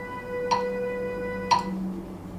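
Two crisp metronome clicks exactly one second apart over a faint steady hum.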